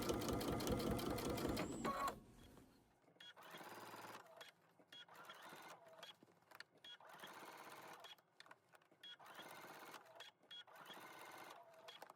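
A sewing machine stitches quilted hoodie fabric, with a loud, close, steady run of rapid stitching at the start, followed by quieter, intermittent short bursts of sewing and handling noise.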